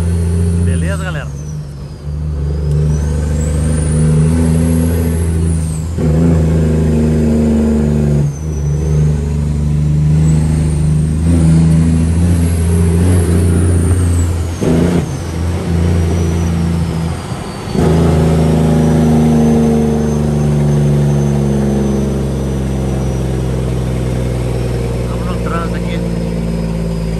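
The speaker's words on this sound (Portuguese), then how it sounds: "Minutos que eu tô nesse trânsito agarrado aqui, moçada. Anda, para, anda." Stop-and-go traffic heard from inside a delivery vehicle in Orlando: engines rev and idle with trucks and buses around, air brakes hissing, while someone talks over the steady road noise.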